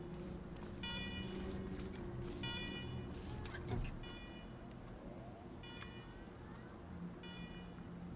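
A repeating electronic alarm in the video game Wasteland 3 beeps in short tonal bursts about every one and a half seconds, set over a steady low machinery hum, moderately loud.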